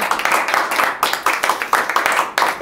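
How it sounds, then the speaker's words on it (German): Clapping from a small audience at an open-stage song night, a ragged run of hand claps with rhythmic bursts, fairly close and moderately loud. "Wir machen erstmal einen herzlichen Applaus für Holm an der Bar"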